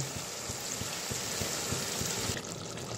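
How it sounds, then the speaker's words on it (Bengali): Water is poured into fried masala for a Bengali bain fish curry, producing a continuous hissing, sizzling splash that stops abruptly near the end, close and steady. "দিয়ে দিব সামান্য পরিমাণে জল।"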